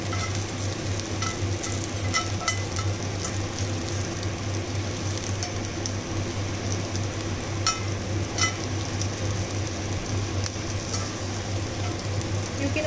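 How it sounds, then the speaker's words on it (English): Ingredients for butter chicken sautéing in a hot pan: a dense, even sizzle runs without a break, close and fairly loud, with occasional faint stirring ticks. "Just saute it for 10 seconds, not more."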